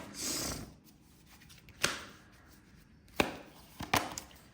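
Tarot cards being shuffled and drawn, heard as a brief riffle at the start followed by a few sharp, isolated snaps and taps, close and fairly quiet, with no talking.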